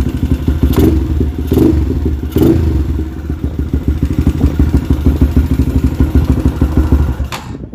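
A modified motorcycle engine with an Uma Racing head block, IKK crankshaft and converted ESR clutch idles with a steady low rumble, blipped into a few short, sharp revs near the start, then settles back to a lumpy, uneven idle.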